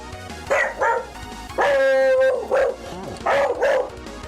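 Pet dog barking nearby, a run of five or six loud yips and barks in uneven rhythm, one drawn out, with no talk over them.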